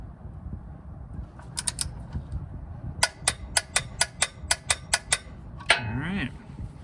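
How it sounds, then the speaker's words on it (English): A torque wrench ratchets a metal oil filter cap down to 30 foot-pounds on a 1GR-FE Toyota 4Runner, a rapid burst of clicks followed by an evenly paced run of about a dozen sharp ratchet clicks, close over a faint background. "go ahead and torque it down to 30 foot-pounds."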